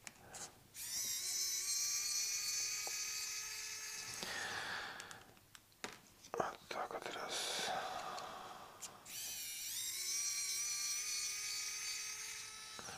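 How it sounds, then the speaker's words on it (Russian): A screwdriver works screws out of a computer mouse, with close, whirring and grinding turns that come and go in bursts, and quiet speech and breathing between them. "То легко крутится отвертка, то тяжело."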